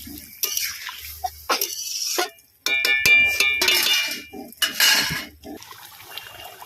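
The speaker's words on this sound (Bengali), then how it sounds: "আর একটু জল দিয়ে দেবো।" Water poured into a cooking pan holding mustard for a pointed gourd (potol) malaikari curry: close splashing pours broken by short gaps, with clinks of utensils against the pan and a voice heard briefly.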